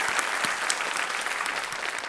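Studio audience of the Kaun Banega Crorepati quiz show applauding to welcome a contestant, brisk full clapping from a large crowd, loud and even throughout with no talk over it.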